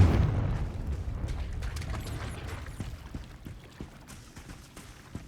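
A Confringo fire spell explodes in Hogwarts Legacy, a deep booming blast that swells at once and then rumbles and crackles away over several seconds, loud and close with no talk over it.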